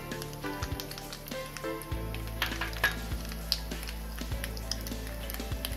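Mustard seeds (rai) crackle and sizzle in hot oil in a kadhai while arbi sabzi is being made, a steady close frying hiss scattered with sharp little pops and the occasional clink.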